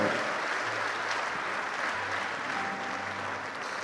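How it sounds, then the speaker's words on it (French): A church congregation claps together in sustained, dense applause, a steady wash of many hands from beginning to end, with a low hum underneath. "And let's clap for the word of God."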